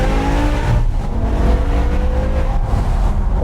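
A V10 BMW M6 engine revving hard under acceleration, a loud sustained roar with rising harmonic tones heard from inside the car.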